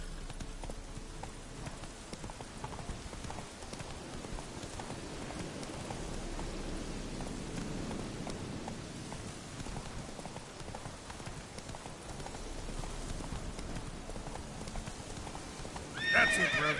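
Roach, a horse in The Witcher 3, gallops with steady clip-clop hoofbeats over a soft rain-like wash, and a loud neigh breaks out close by at the very end.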